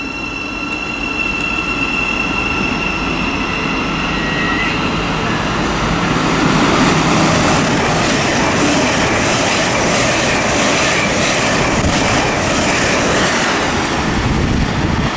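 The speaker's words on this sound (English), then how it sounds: "we've got another LNER service as well as the Thameslink service departing" An LNER train passes through Stevenage station on the East Coast Main Line, a loud, sustained roar of wheels and rail rumble with rhythmic clatter and a high squeal, filling all fifteen seconds.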